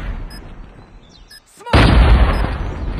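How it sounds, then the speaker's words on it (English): Grenade explosion in Call of Duty Mobile, a sudden loud, deep boom partway through that leaves a sustained rumbling roar, preceded by quieter game ambience. "Grenade out! Grenade!"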